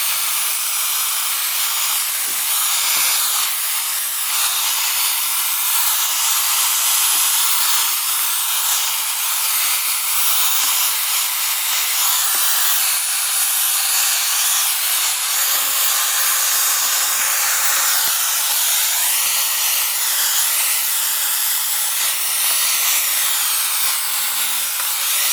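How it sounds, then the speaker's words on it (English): A powerful bagless hoover runs steadily throughout, a loud continuous hiss-roar with shifting airflow tones as it cleans around wooden bannisters being prepared for painting, with no talk. "it's a good powerful hoover as well"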